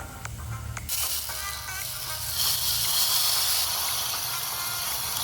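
Shallots and whole spices (cinnamon, clove, cardamom, star anise) and dried chilli sizzle in oil for a green pea curry; a soft hiss jumps up after a faint start and then grows into a steady, bright sizzle.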